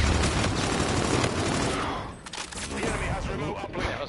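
Rapid bursts of video game gunfire, dense crackling volleys that ease briefly midway before resuming, with a voice talking over them.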